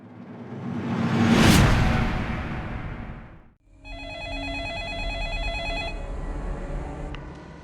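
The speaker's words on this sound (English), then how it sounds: "Pick up the phone, Noah." Telephone ringing in a 2002 horror film scene, a whooshing swell first, then after a short gap a steady electronic ring pattern repeating clearly for several seconds, loud and alone.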